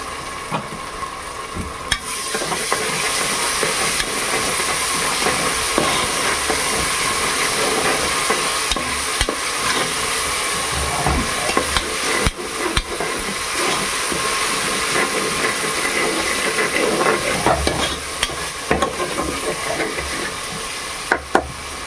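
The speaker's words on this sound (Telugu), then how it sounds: "ఇప్పుడు ఇది పచ్చివాసన పోయే వరకు ఫ్రై చేయాలి. బాగా ఫ్రై చేసుకోవాలండి." Ginger garlic paste fries in a pan for chicken curry with a continuous loud sizzle and hiss, broken by frequent scraping stirs from a spoon, heard up close with no talking.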